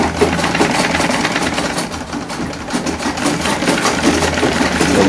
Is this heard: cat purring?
no